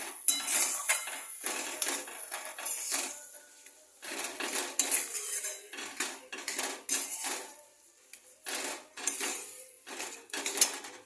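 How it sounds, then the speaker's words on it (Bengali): Boiled potatoes for a vegetarian Bengali alu chop are mashed and mixed in a wok with the gas off. A utensil clinks and scrapes against the metal in quick, irregular bursts, close and fairly soft. "গ্যাসটা বন্ধ অবস্থাতেই আমি এটা ভালো করে মিক্স করব।"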